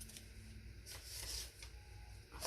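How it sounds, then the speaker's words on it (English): Paper being trimmed for a junk journal, a soft, close rasping cut with a swell of cutting noise in the middle, quiet and with no talking. "I'll just go ahead and trim it down"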